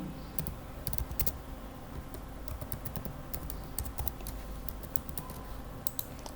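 Rapid keystrokes on a computer keyboard as a login ID is entered for the Zerodha Kite trading platform in Chrome, with steady clicking throughout and a few sharper taps standing out.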